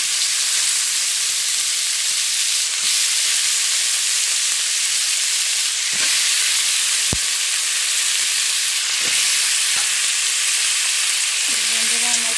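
Pumpkin pieces fry with shrimp in a pan for a sweet pumpkin curry, giving a loud, steady sizzle and hiss, broken by a few sharp clinks and scrapes of stirring.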